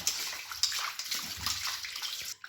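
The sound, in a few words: washing raw chicken with water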